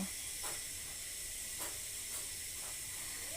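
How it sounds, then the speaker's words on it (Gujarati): Steady sizzling hiss of fenugreek fritters deep-frying in hot oil, with a few faint crackles and pops rising from the continuous bubbling. "ગોટા તળાઈ રહ્યા છે"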